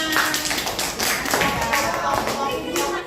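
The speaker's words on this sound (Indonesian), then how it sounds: "Oke, tepuk tangan." A classroom group claps together after an elementary science lesson, a dense, steady patter of hands that fills the whole moment, with voices mixed in underneath.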